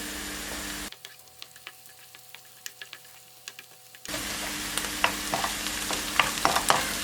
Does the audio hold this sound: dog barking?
no